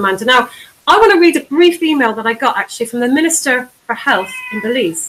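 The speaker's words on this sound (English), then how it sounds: "that's my cat. He always likes to talk when I'm on air." A pet cat meows intermittently in the background while a person talks continuously during a live broadcast, the cries partly buried under the voice.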